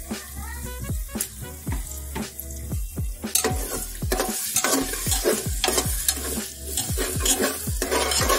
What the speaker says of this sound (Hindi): अब कलेजी डालते हैं इसमें कलेजी को मसाले में भूनते हैं दो मिनट के लिए अच्छे से